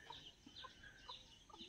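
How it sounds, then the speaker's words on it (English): Chickens clucking softly at a distance in a quiet farm village in Nagaland, India, with a few short, scattered calls and no other prominent sounds. "We can hear birds and chickens and a few people working in their houses"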